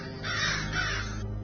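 A crow caws twice, harsh and fairly close, two rasping calls following one another in quick succession with no talking.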